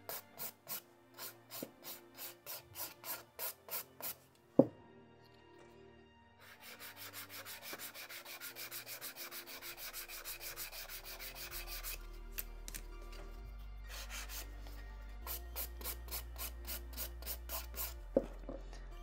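Nail file worked over an acrylic gel overlay on a fingernail, rhythmic rasping strokes at first, then a longer stretch of steady scraping broken by short pauses, close and faint.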